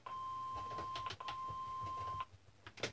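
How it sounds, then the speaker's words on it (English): An answering machine sounds a steady electronic beep, a single sustained tone lasting about two seconds, heard faintly over low background noise and soft indistinct sounds. "Please leave a message after the tone."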